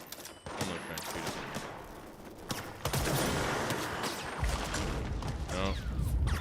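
Game gunfire crackles in dense, rapid bursts through a livestream match, with loud shots and impacts continuing steadily throughout.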